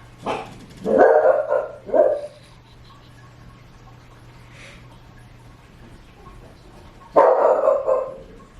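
A nearby dog gives a few loud barks, falls silent for several seconds, then barks again in a short run.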